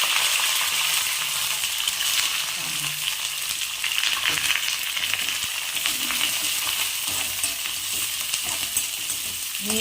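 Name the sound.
peanuts, curry leaves and chillies frying in oil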